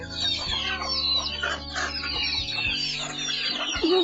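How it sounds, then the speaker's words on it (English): Chickens clucking in a village yard near a native hut, several birds making close, busy overlapping clucks with a low steady hum underneath and no talking. "This is where the chickens are."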